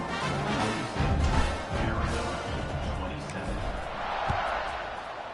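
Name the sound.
football stadium crowd buzzing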